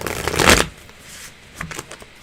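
A deck of tarot cards is shuffled up close, one brisk riffle of flicking cards followed by a softer second shuffle, heard alone in a quiet room.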